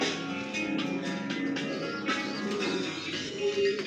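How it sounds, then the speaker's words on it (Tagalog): Racing pigeons in a club loft in La Paz, Tarlac coo softly and steadily, with faint chirps and a few wing or cage noises close by. "Yan mga ibon natin."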